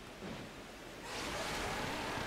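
Ocean surf rolls while surfing across water in Pokémon Legends: Arceus during stormy, rainy weather, a steady wash of wave noise that swells louder partway through, with no speech.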